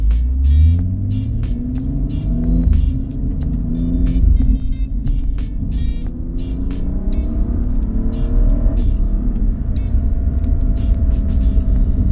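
A car under a hard pull, engine note climbing steadily through the gears with a loud, continuous rumble and rising harmonics; the automatic transmission had been flashed with a bootmod3 tune and was showing a shifting fault in third and sixth gear.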